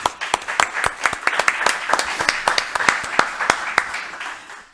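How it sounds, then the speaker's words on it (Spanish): Applause from the audience at the opening panel of a morning event, a sparse and uneven run of individual claps that rises and then thins out, fairly close, with no talk over it. "¿Le damos un aplauso?"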